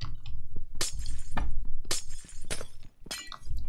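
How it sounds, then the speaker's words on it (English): Glass shatters several times in the TerraFirmaCraft Minecraft game, a series of sharp crashing breaks spaced about a second apart over a low background hum. "Break the glass!"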